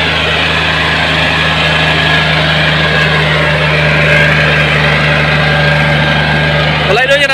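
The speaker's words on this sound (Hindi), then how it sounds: "क्योंकि ट्रैफिक का काफ़ी शोर है" Steady engine idling with a low constant hum and broadband traffic noise along a busy road where a tractor trolley travels, continuous throughout and fairly loud, with a brief tonal sweep near the end.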